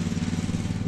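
A lawnmower engine drones steadily and loudly, a continuous low rumble with no pauses.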